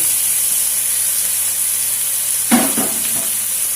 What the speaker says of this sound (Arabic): راح نقلي البصل تاعي مليح بهذا الشكل